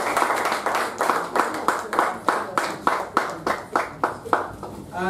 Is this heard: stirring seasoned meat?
no